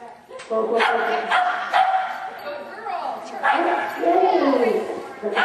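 A dog on an agility training course barks and yips repeatedly, loud and close, and a handler's voice can be heard between the barks.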